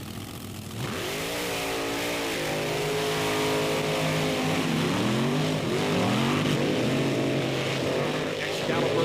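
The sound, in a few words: monster trucks racing on a beach track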